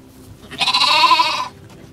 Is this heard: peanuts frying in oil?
no